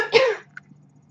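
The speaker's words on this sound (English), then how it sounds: "Although, now that I've said that, I have to cough." A single person's cough, close to the microphone, sharp and loud, then a short trailing breath and near-silence.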